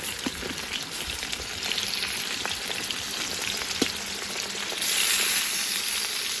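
Potatoes frying on a sadzh pan over an outdoor grill in the rain, a continuous close hissing sizzle with occasional pops that swells louder near the end.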